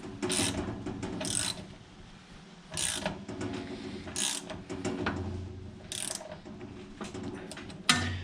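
Ratchet clicking in repeated bursts while tightening a part on a John Deere Model 47 blower, close and loud, with pauses between sets of strokes.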